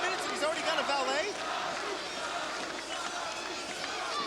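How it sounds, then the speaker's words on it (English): A wrestling crowd cheers for Sabu at a WWA event, a dense sustained roar of many voices filling the arena throughout, with an announcer's voice audible over it. "crowd obviously favoring Sabu in this match"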